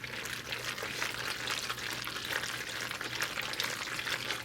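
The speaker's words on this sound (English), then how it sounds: "So you add all that sauce in there and mix it up real well" Thick macaroni and cheese sauce being stirred into cooked noodles, a steady wet squelching and sloshing that is fairly faint and close, with no talking.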